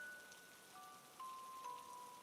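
Heavy rain pours down outside a building, a steady, faint hiss of drops hitting surfaces with no voices and no breaks.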